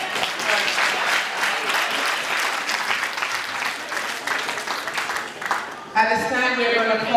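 Audience applause at a retirement celebration, a dense, steady clapping from a crowd that holds for about six seconds, then breaks off as a voice begins speaking.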